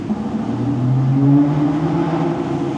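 Aston Martin V12 Vantage S engine revving up and holding high, a loud, steady rising drone with strong harmonic tones, close by and without talk.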